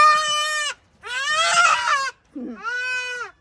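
A young Boer goat kid yells loudly and close by in three long, strained bleats separated by short pauses.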